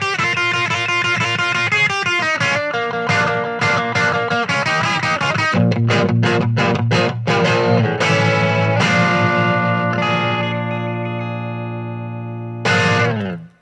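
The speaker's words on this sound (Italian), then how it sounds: "passando al canale drive, la nasalità tipica viene tutta fuori, con un tono vintage e scostumato" An electric guitar plays through the drive channel of a Soundsation Quark 45 valve amp, giving a nasal, vintage overdriven tone: loud picked notes and chords ring out, then sustain and fade before a final strum.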